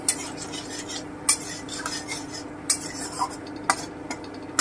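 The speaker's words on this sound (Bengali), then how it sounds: "লবঙ্গ এলাচ দারচিনি হালকা একটু ভেজে নিচ্ছি" Bay leaf, cloves, cardamom and cinnamon lightly frying in oil for doi begun, a soft background crackle under repeated sharp clinks and scrapes of a metal spoon against the pan.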